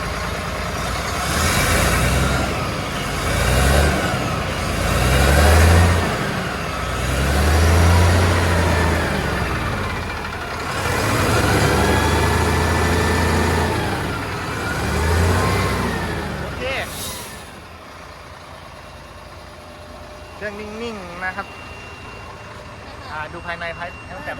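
A 2014 HINO 344 single-axle dump truck's diesel engine revs in repeated rising and falling surges, then settles to a quieter idle, with people talking in the background throughout.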